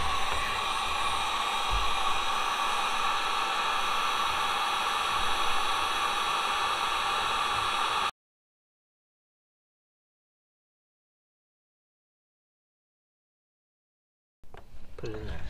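A heat gun blows a steady, loud hiss of hot air across the surface of a cracked plastic wheelbarrow for about eight seconds, then cuts off into silence before faint noise returns.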